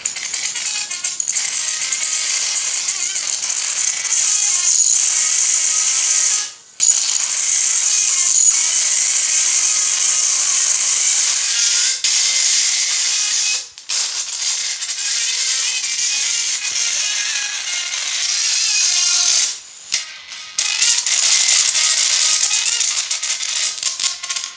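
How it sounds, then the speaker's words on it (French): An electric arc crackles and buzzes loudly and continuously, with a harsh rattling edge and a few brief dropouts. "l'électricité qui chante, c'est ok là"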